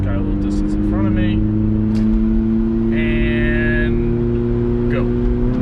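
A Honda Del Sol pulls in a second-gear roll with a steady, loud engine drone and rising harmonics that climb in brief surges. It is heard from inside the car, with a voice speaking over it.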